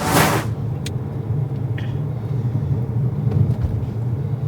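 Interior road noise from a moving car, a steady low rumble and hum with soft rattles, heard from inside the cabin and close throughout, with a brief louder rush at the very start.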